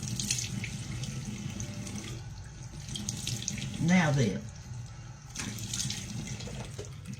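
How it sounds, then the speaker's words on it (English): Water runs steadily from a kitchen tap into a sink as someone rinses their face after a homemade clay mask, the flow pausing midway and resuming, with a brief spoken remark. "I'm going to rinse mine in cool water now"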